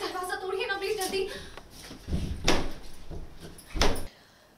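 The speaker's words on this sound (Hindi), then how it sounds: "आप दरवाजा तोड़िए ना प्लीज जल्दी" A door is forced open in an Indian TV drama. After a voice speaks, two heavy, booming thuds land about a second and a half apart, loud and close.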